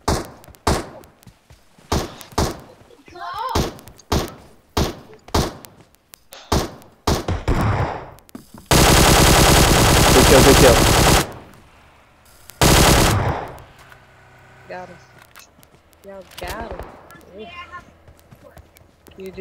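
Gunfire in the video game PUBG: a string of sharp single shots followed by two long, dense bursts of rapid automatic fire, loud and close, with players talking in between.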